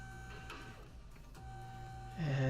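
Car lift in the Car Mechanic Simulator 2015 game raising a car, a steady low mechanical hum with tonal whine that swells louder near the end as the lift engages.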